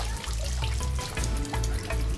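Clean water running steadily, with a low, pulsing rumble underneath and light splashing throughout.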